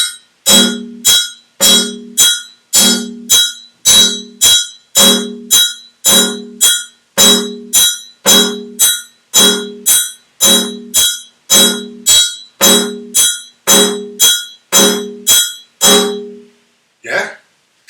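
A bell plays the pattern of the West African rhythm Djan, sharp metallic strikes in a steady repeating cycle, loud and close, about twenty hits with a closing touch at the end.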